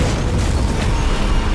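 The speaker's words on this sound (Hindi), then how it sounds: "सिर्फ एक गोली से उसने पूरे हेलीकॉप्टर को हवा में ही उड़ा दिया।" A helicopter blown apart in mid-air by a single rifle shot in the 2007 action film Shooter, heard as a loud, sustained, dense explosive roar with deep low-end rumble filling the whole moment.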